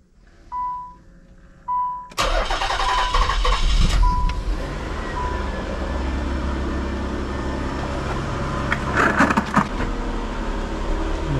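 A Nissan Gloria car starts after a couple of short electronic beeps. The engine catches abruptly and settles into a loud, steady warm-up idle that runs on continuously nearby.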